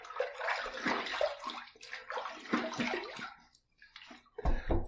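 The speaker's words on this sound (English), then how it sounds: "we're going to take this little bit of cold water from here and throw that in there" Cold water splashes and sloshes into a shaving bowl during a lemon-scented cold-water shave, pouring in two close bursts with a short pause between, then a final brief splash; no talking.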